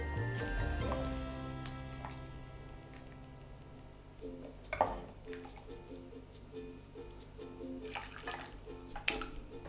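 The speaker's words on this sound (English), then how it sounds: "I'm just going to scoop out some pork meat without the dates" A ladle scoops pork out of a pot of Bak Kut Teh soup, giving a few wet splashes and metal clinks against the pot under steady background music.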